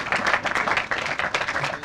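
An audience at a public works groundbreaking ceremony breaks into steady, dense applause, a continuous patter of many hands clapping at moderate volume for the whole stretch.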